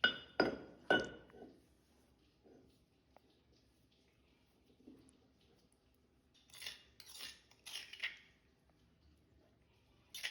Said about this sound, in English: Mix well green chili and mango pieces.